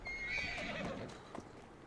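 A horse in Assassin's Creed Syndicate gives a loud whinny, with hooves clip-clopping beneath and fading toward the end.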